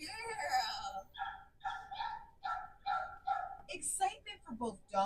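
Rescued dogs at an adoption event bark and yip in a quick run of close, sharp barks, with voices and crowd chatter around them.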